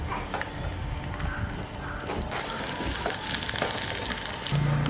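Dried red chilli and onion hit hot sesame oil with popped mustard seeds, a steady crackling sizzle with occasional spoon scrapes, close and continuous for several seconds.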